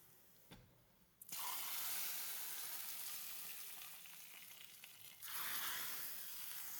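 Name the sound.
coconut oil tempering sizzling with mustard seeds and curry leaves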